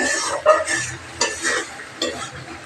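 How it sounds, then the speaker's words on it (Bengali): Ingredients are mixed together in a cooking pot with a few quick scraping stirs and utensil clinks over a soft sizzle, close by, with a faint voice in the background. "এখন সব উপাদান একসঙ্গে দিয়ে আমরা মিক্স করে"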